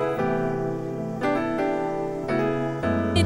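Keyscape piano layered with a soft pad and a bell-like tone in Logic, sustained chords changing about every second with bright bell overtones, full and steady throughout.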